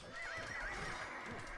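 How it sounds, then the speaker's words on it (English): Horses neigh in a faint, sustained whinny as hussar cavalry die in the Age of Empires II strategy game, with a muffled background hum and no voices. "hussars dying. Horses neighing."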